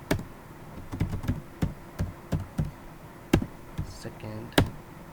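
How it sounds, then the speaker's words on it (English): Someone types on a computer keyboard at a desk, producing sharp, irregular key clicks and taps up close, spaced across several seconds with short pauses between strokes. "So I'm just typing something here."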